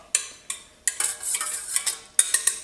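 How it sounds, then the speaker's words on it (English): An egg is whisked briskly in a bowl while soup stock is added a little at a time for a Greek lamb fricassee lemon sauce, making close, rhythmic metallic scraping strokes with sharp clinks, loud and alone without speech. "I'm going to slowly add some stock and keep whisking"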